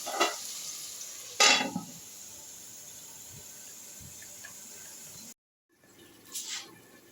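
Marinated mutton with yogurt and salt sautéing in a pan for mutton curry, a quiet low sizzle broken by a few louder scraping bursts and a brief silent gap, no one speaking.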